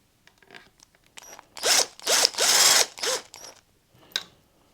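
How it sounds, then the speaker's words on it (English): A cordless power screwdriver with its torque clutch at the lowest setting runs bolts into a Royal Enfield Classic 350 engine during assembly. There are four close, whirring bursts in quick succession, each rising in pitch, with small clicks and handling noises between them. "I'm going to use my whizzer, but I've got the torque clutch on the very lowest setting"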